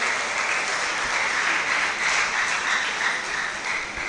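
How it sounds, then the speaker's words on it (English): Steady applause from a large audience at a student summit fills the room, a dense even wash of clapping that holds at a constant level with no voices over it. "Please, a big round of applause for yourself for even making time to come here today."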